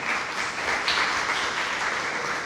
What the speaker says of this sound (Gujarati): તમને બધા માટે ખૂબ તાળીઓ એકવાર થઈ જાય.